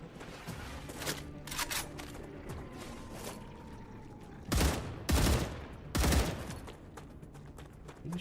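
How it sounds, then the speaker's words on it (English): Enemy gunfire in the sci-fi factory-building game StarRupture: scattered shots and short bursts, with three louder, heavier volleys near the end over a low ambient hum. "Who's shooting at me?"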